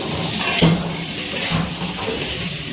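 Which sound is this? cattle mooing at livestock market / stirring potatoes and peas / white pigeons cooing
stirring potatoes and peas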